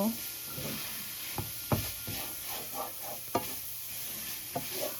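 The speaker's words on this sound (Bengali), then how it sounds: "আমি মিডিয়াম টু লো হিটে ফ্রাই করতেছি" Chhana fried in ghee with sugar over medium-low heat, a soft continuous sizzle with intermittent scraping stir strokes and clinks of a spoon against the pan.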